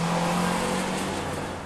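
A 2013 Acura ILX's 150-horsepower 2-litre four-cylinder engine revs hard, a loud, steady drone close by that eases slightly toward the end, with no talk over it.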